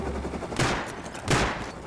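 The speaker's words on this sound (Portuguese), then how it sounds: "Deu um tiro nele." Two sharp bursts of gunfire ring out in the survival game Rust, each a quick rattling volley a moment apart, fairly faint and with no talk over them.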